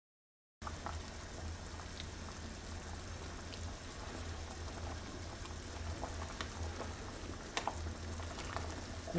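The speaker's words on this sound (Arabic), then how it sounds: "زيدوه شويه يغلي باش نرشوا الشوربه نتاعنا" A pot of Tunisian chorba soup with chicken and chickpeas bubbles steadily on the stove, a close, even simmer of small popping bubbles with no talk.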